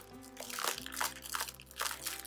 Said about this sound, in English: So first, you need to find the wrapping to take it out.